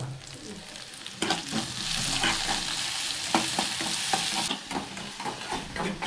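Okra frying with onions in a pan, stirred steadily: a continuous close sizzle with scraping strokes of a spoon against the pan throughout, no voices.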